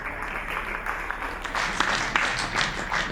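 An audience at a comedy show gives a short burst of applause that swells midway and carries steadily to the end, with no voices over it.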